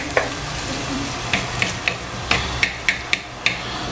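Sri Lankan katta sambal fries in oil until golden brown, a busy sizzle and crackle broken by about eight sharp clinks of a utensil against the pan, spaced irregularly, with no talk.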